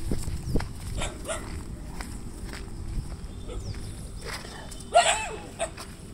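Dogs, one of them a Rottweiler, give a couple of short barks outdoors, heard amid general background noise and what may be footsteps.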